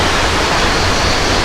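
Loud, steady broadband rush of splashing and flowing water fills an indoor water park with water slides and a lazy river, a continuous roar with no breaks and no audible voices.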